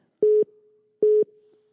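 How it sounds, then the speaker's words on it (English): A call-waiting tone from an incoming call interrupts a phone conversation: two short, identical electronic beeps spaced about a second apart, clear and steady with quiet between them. "there's something weird going on with my phone. Someone's trying to call me."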